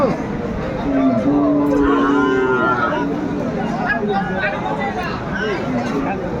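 Large bulls at a busy cattle market, one long loud low moo near the start followed by further lowing, heard under nearby bargaining voices and crowd chatter.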